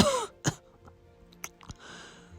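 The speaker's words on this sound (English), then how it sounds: "Williams says with laboured breathing. He coughs up blood." A few harsh, rasping coughs, the first loud and drawn out, followed by quieter, strained coughs and breathy gasps in a quiet room.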